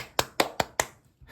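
Four sharp, evenly spaced hand claps ring out close by, followed by a short pause and the start of a fifth.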